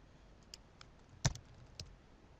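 Keys tapped on a computer keyboard while entering a name into a contact search field, a few sparse clicks with one sharper stroke in the middle, faint against a quiet background.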